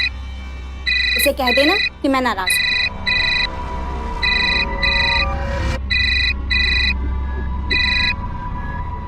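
An incoming call on a telephone, which rings in a repeated electronic ringtone pattern of short paired tones, steady and fairly close, while people speak over it in a tense domestic drama scene.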